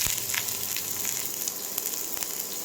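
Onions fry in a little coconut oil in a pan, giving a steady, even sizzle with light crackles, close and continuous with no voices.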